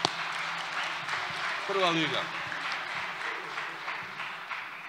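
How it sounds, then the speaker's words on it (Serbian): Audience applause at a live talk event, a steady wash of clapping from a crowd that carries on throughout, with a voice briefly speaking over it. "pozdravimo ih aplauzom."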